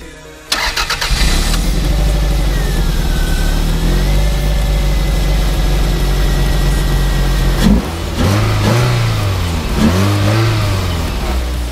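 Car engine fitted with a newly made homemade induction kit starts up and revs repeatedly, a loud steady idle broken by rising and falling throttle blips near the end, with no talking.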